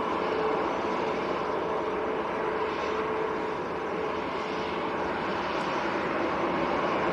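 A heavy jet airliner at Manchester Airport taxis out for departure, its engines a steady, loud broadband roar that holds level and unbroken throughout.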